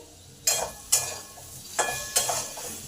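A spoon scrapes and knocks four times through ground spices and potatoes in a pan, each stroke raising a short burst of sizzling over a quiet background, with no speech.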